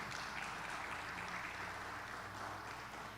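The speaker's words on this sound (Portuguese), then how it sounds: "Dá uma salva de palmas para o Espírito Santo." Applause from a church congregation during a worship service, a steady broadband clatter of many hands clapping that fills the whole short stretch at an even, moderate level.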